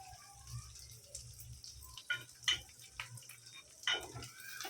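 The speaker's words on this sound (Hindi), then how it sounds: "हल्दी को भी अच्छे से भून के हो गया" Turmeric and curry leaves fry in oil in a pan, giving a quiet sizzle with scattered crackles and a few louder spatters and stirring scrapes.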